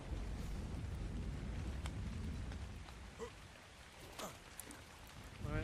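Steady rain falls in the video game ARK: Survival Ascended, a soft dense hiss of drops with a few faint thuds and splashes, heard alone at low volume.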